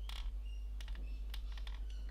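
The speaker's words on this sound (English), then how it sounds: "Bit of a squeak, listen." The plastic joint of a Toyworld Leia TW-M06 action figure squeaks as it is moved, several short, thin creaks spaced across a quiet room with a low background hum.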